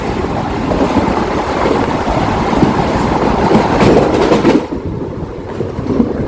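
A passenger train on the line near Kalanad runs toward a short railway tunnel, a loud, close, continuous rumble with rushing wind and rolling noise that drops slightly near the end.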